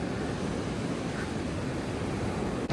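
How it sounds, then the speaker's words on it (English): Pacific Ocean surf on the Oregon coast roars in a steady, unbroken wash of noise, loud and close with no voices. "Gosh, the ocean is just so intense."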